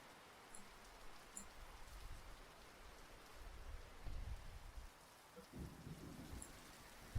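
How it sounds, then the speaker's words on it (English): Light background rain, a soft steady patter at low level with a few brief louder low rumbles, no voices. "let's put some rain sounds. Some light little rain sounds."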